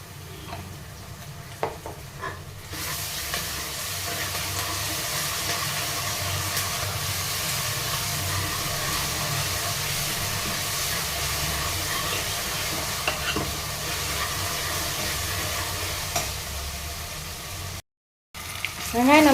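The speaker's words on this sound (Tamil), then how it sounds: "வெங்காயம் நல்லா வதங்கிடுச்சு." Onion with ginger garlic paste sautéing in a pan for a mutton curry, a steady hissing sizzle with stirring running continuously and close, briefly cutting out near the end.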